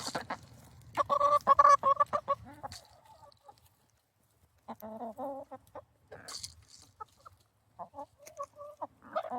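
Hens cluck in bursts while pecking at a new enrichment toy, close and fairly loud, with short pauses between flurries of cackling and a few sharper squawks.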